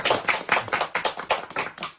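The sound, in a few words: youth group clapping to welcome new students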